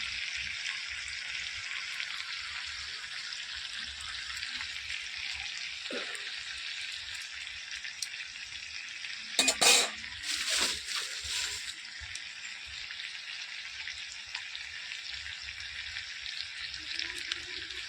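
Pointed gourd (potol) frying in oil in a pan, a steady bright sizzle throughout with a brief louder crackle and stir midway, no talking over it.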